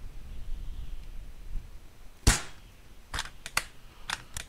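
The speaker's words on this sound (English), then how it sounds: "You know you like it when I shoot BBs at you." BB gun shots aimed at bunnies in the video game The Long Drive: one sharp, loud crack, then several quicker, lighter snaps follow after a short pause, over a low background rumble.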